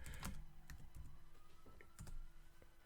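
Faint computer keyboard typing during an online trivia podcast, a scatter of quick, light key clicks coming in small bursts against low background hiss.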